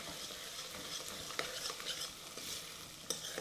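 Garlic and cardamom seeds fry softly in a curry pan, pressed and stirred with the back of a spoon, giving a faint continuous sizzle with scraping and light clinks.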